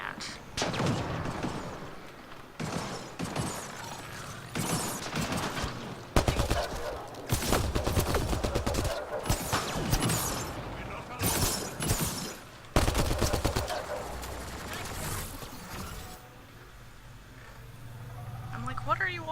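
Bursts of gunfire and heavy explosive blasts from a sci-fi space video game, loud and repeated in clustered volleys with short gaps, under and between voices talking.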